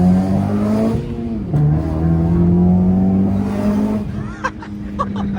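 A Honda Civic fitted with a Skunk2 Mega Power intake manifold revs loudly nearby, the pitch rising and dipping across several throttle blips before settling, ending with a few sharp pops.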